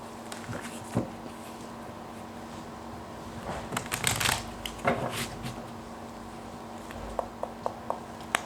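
Tarot cards shuffled by hand for a love reading, a soft rustling patter with several louder riffles in the middle and a few sharp taps near the end, close and fairly quiet over a steady background hum.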